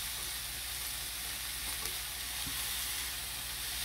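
Pork skewers with potatoes cook in a pan with a steady, close sizzle and frying crackle, plus a faint tap or two, with no voices.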